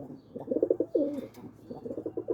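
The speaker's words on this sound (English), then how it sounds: "There's one of the Jimmy Johnson birds right there" Roller pigeons coo in a loft early on a Sunday morning, with repeated pulsing, throaty coo phrases in two clear bursts around a longer drawn-out call, close and fairly loud, with no talking.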